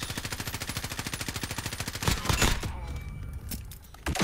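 Rapid automatic machine-gun fire in Call of Duty Modern Warfare rattles off in a fast, even burst for about two seconds as a magazine is emptied, followed by a few sharper bangs and quieter game ambience.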